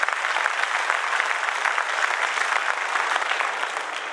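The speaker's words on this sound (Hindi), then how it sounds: "तालियां बजाकर मेरी बात का समर्थन" Steady, dense applause from an audience at a Hindi kavi sammelan poetry recital, continuous and even throughout without talk over it.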